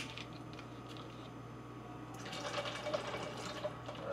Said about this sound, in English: Put some coconut water.